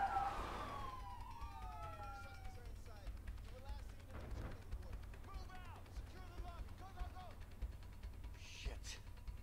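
Police sirens wail in the video game A Way Out, a rising and falling siren sweep loud at first then continuing fainter beneath game sounds and voices.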